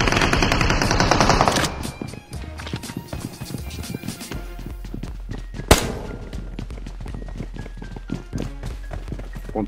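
Gunfire in a competitive shooter video game: loud, dense bursts of automatic fire rattle almost without pause, with one sharp, heavy crack near the middle.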